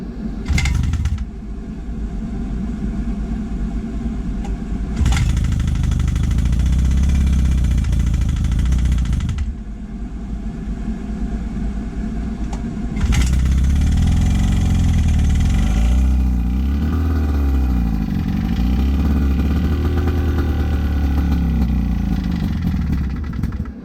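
A rebuilt 1958 Johnson 5.5 hp outboard motor runs steadily at close range, a continuous loud putter with a few surges and shifts in pitch as the throttle changes, with no talk over it.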